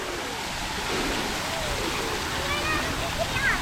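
Water spraying from a water park fountain in the Cape: a steady broadband rush of splashing water throughout, with faint children's voices and squeals underneath.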